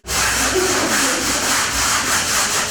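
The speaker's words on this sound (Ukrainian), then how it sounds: "спеціальним шпателем затирає стіни" A special spatula is worked over plaster on a wall before painting, giving a loud, continuous abrasive scraping and rubbing close up, with steady strokes and no talk.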